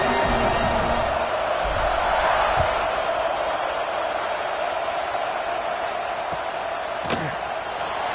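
A football stadium crowd at a kickoff, a broad continuous roar of cheering that stays steady throughout, with a sharp thump near the end and a commentator's voice faintly under it.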